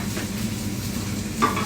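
Mushrooms brown in a frying pan with a steady, soft sizzle and light stirring noises throughout, and one brief sharper clink near the end.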